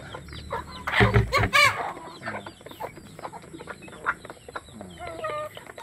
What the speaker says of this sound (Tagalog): Patuka ng manok.